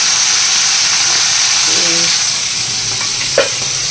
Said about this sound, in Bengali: এবার দেখো চিংড়ি মাছটা নিয়ে এর মধ্যে দিয়ে দিলাম